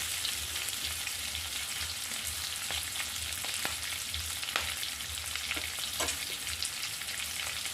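Stuffed parwal (pointed gourd) fries in a pan until brown, giving a steady close-up sizzle with occasional scraping and clacking from stirring.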